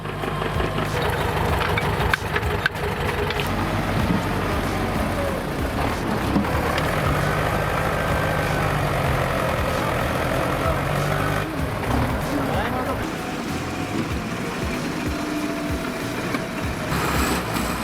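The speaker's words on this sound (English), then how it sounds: "The engine roars as a tense rescue operation begins." A tractor engine roars steadily during a rescue of a vehicle stuck deep in mud, a loud continuous low drone with some rattling and knocking that holds throughout with little change.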